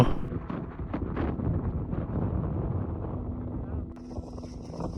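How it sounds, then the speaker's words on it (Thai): Strong gusty mountain wind on Doi Mamuang Sam Muen, Umphang, Tak, buffets the microphone with a loud, rumbling roar that eases slightly toward the end. "เส้นทางช่วงสุดท้ายที่ผมต้องพบเจอ มีทั้งพายุฝนและลมแรง"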